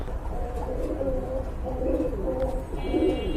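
A male and female pigeon pair coo close by in repeated soft, throaty phrases over a low background rumble, with no talking.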